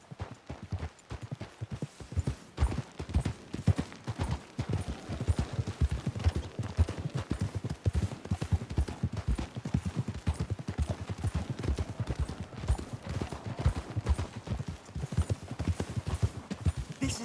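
Rapid, continuous hoofbeats of horses galloping in Red Dead Redemption 2, a dense clattering rhythm that stays loud and steady throughout with no voices.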